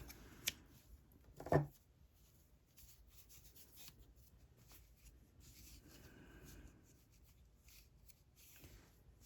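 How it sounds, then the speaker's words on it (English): Scissors snipping crochet yarn, one or two quick close cuts early on followed by soft rubbing and handling noises of the yarn, faint and without talk. "I'm going to fasten off, cut your yarn"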